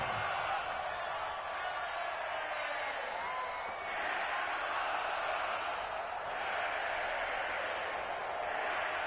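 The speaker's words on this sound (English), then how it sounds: "the crowd getting into it as we come up on a big 3rd down" A stadium crowd roars and cheers in a PS4 football video game ahead of a big third down, a steady, loud wash of noise that swells slightly a few times.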